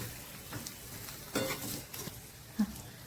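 Bitter gourd gently tossed and stirred in a frying pan, giving a few soft, scattered scrapes and a light sizzle, with one sharper knock near the end.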